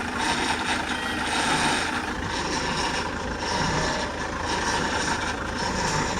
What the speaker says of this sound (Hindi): मैं जैसे थोड़ी बहुत स्टीयरिंग का मूवमेंट करूँगा ना, इधर उधर घुमाऊँगा स्टीयरिंग को, तुम देखना आवाज़ बढ़ेगी।